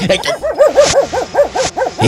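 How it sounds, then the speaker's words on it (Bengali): Dogs barking in a quick run of high, yelping barks, close and loud, almost without pause. "এত কুকুর ডাকে কেন এত রাতে"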